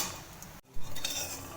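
Dried red chillies sizzle in hot mustard oil in a pan, a steady close crackle with a brief sharp break partway, cooking for a water spinach dish.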